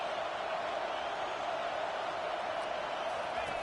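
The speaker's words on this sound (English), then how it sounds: "the crowd really making some noise now, trying to help out this defense" A football stadium crowd roars in a dense, steady wash of noise, loud and continuous throughout with no distinct voices standing out.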